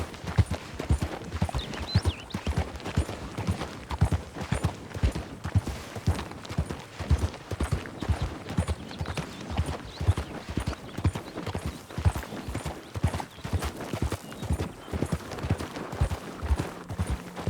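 Horse hooves clip-clop in Red Dead Redemption 2 gameplay, a steady run of close, sharp thuds repeating for the whole stretch with no voices over them.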